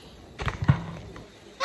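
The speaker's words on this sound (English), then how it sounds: "You hear the geese? Hi, geese. They're flying right over there." Geese honk in a few short calls as they fly overhead outdoors on a fine day, moderately near, with faint background noise.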